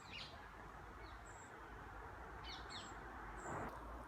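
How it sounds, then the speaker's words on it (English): Birds chirp outdoors during an evening reading: a few short, scattered calls that sit faintly above a steady hiss of open-air ambience. "Even the birds sing along."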